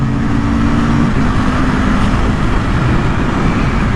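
An Aprilia RSV4 Factory motorcycle runs a medium-pace lap at COTA, giving a steady, loud broadband roar of engine and wind with a low engine drone throughout and no pauses.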